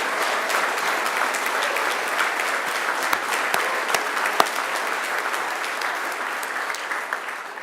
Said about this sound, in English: turn to one another and give yourselves a resounding round of applause